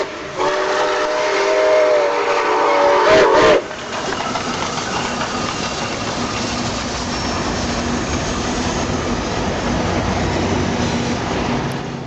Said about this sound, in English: A Pennsylvania Railroad 3-chime whistle is mounted to an auxiliary connection and controlled from the fireman's side.